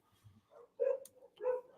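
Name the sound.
dog barking in the background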